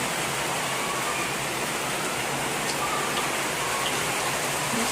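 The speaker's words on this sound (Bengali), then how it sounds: "বৃষ্টিও হচ্ছে, সেই বৃষ্টি।" Steady rain pours outside on a dark, windy day, a dense continuous hiss with scattered drip and splash detail, moderately close and even throughout with no talking.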